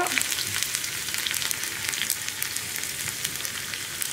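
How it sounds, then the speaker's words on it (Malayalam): Round-cut onions stirred while frying in oil for an okra fish curry produce a bright, crackling hiss with scattered pops, steady and close for the whole stretch. "ഉള്ളി ഒന്ന് കളർ മാറി വരുന്നത് വരെ ഒന്ന് ഇളക്കി കൊടുക്കുക"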